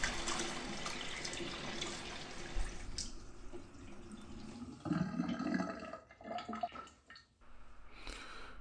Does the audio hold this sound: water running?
yes